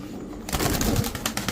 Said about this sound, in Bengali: এই কবুতরটা ফ্লাইং করা কবুতর